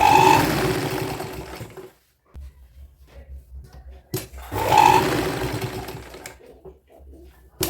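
A sewing machine runs in two close, whirring bursts of press stitching along the neckline of a dress made from an old saree, with a quiet pause between the bursts.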